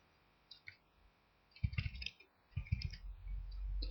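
Keyboard keys tapped while entering a username, heard as a few close, quiet clicks in two short clusters with no talking.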